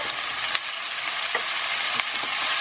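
Cauliflower with turmeric and salt sizzles steadily in a hot pan, a loud broadband hiss broken by a few soft scraping stirs.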